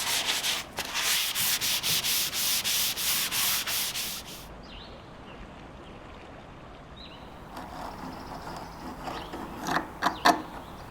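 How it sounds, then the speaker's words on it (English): Steady scratchy rubbing of hand sanding with a sanding sponge on a vintage painted wooden dresser, repeated strokes for about four seconds, then quieter handling noises and a few light scrapes. "I'll finish sanding by hand with a sanding sponge"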